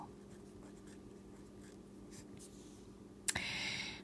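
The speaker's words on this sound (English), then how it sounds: "So I'm gonna write that over here." Handwriting during a math lesson: faint, soft scratching strokes over a quiet room hum, ending in a sudden louder scrape or clatter near the end.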